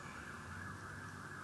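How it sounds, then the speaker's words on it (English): Siren of a vehicle passing outside a window on a fairly busy main street, a steady distant wail held under low rumbling traffic noise with no talking. "car, siren, whatever passes my window."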